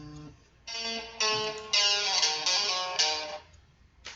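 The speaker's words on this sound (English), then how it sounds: "sorry, that was my phone." A phone rings or plays a short harmonic melody of bright electronic tones in several bursts, fairly close and clear, with no talking.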